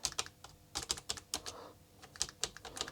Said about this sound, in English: Keyboard is working. Start typing.